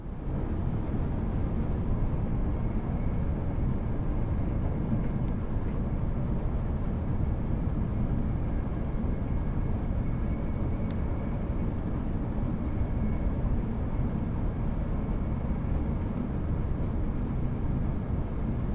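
An Avanti West Coast Class 805 train runs at speed in Train Sim World 6 on the West Coast Main Line out of London Euston, a steady, dense low rumble and rushing roar continuing unbroken and loud throughout.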